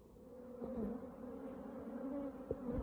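Steady, dense buzzing of many honey bees close by at a hive, a continuous low drone with a few louder individual bees passing near.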